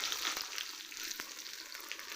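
Mustard seeds, curry leaves and chillies crackle in hot oil for a Kerala chena mezhukkupuratti, a steady close sizzle with a few sharp pops and no talk.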